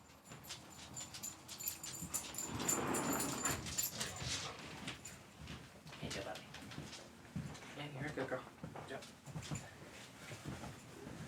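Dogs whimpering and yipping indoors, faint and intermittent, with people talking over them throughout and a few soft knocks and clatters around a card game.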